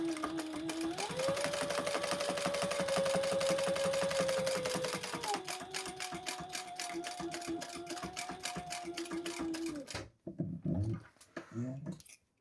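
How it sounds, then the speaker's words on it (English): A sewing machine stitches a pocket on a crossbody bag in a long, steady, close-up whirr. Its pitch shifts slightly midway, then it stops abruptly and a few faint handling sounds follow. "Then I'm going to stitch up that 3-inch mark."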